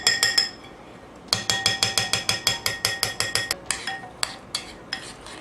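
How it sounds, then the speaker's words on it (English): Spicy chicken seasoning mixture being whisked in a bowl, producing a run of quick, regular metallic clinks and taps against the sides, close and fairly quiet, with short pauses between bursts. "Now you're supposed to whisk it together."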